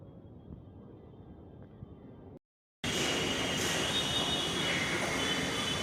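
Mumbai Metro train wheels squeal with a high, sustained screech after a brief cut, following low rumbling of the moving train; loud and close.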